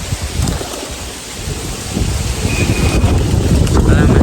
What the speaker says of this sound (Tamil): காற்று வேற அடிக்குது பயங்கரமாக